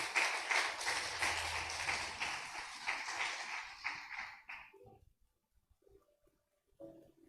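A church congregation applauding during a sermon, dense clapping that holds steady for several seconds, then thins out and fades into near silence with a few faint scattered sounds.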